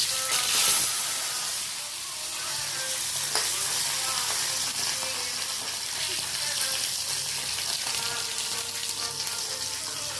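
A dozen small onions fry in a pan for a dried red chilli chutney, giving a steady, close, continuous sizzle with faint clinks and stirring throughout.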